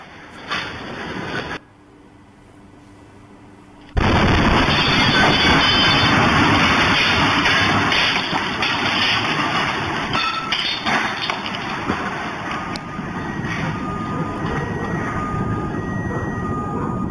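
After a brief hush, a sudden loud blast in Nowgam, Srinagar, caught on CCTV, erupts into a sustained, rumbling roar that slowly fades over many seconds.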